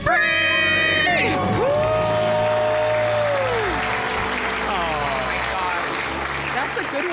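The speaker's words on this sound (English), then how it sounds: "Let's hear that debt-free scream." A couple lets out a loud debt-free scream before a studio audience, followed by sustained cheering, whooping and applause that fills the room.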